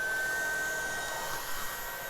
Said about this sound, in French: Vous mettez donc l'aspirateur en route normalement.